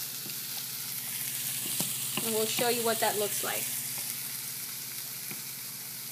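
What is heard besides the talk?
stirring sautéing vegetables for guandules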